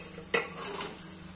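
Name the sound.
adding boiled chickpeas to the pan of fried masala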